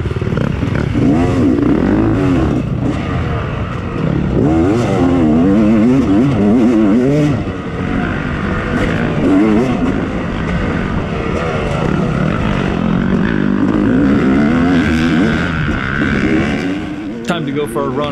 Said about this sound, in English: Yeah, the YZ's feeling good out here.